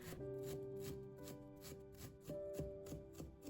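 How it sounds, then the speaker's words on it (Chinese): A knife minces ginger on a chopping board in quick, evenly spaced chops, quiet and close, over a soft tonal hum in the background. "再切成姜末"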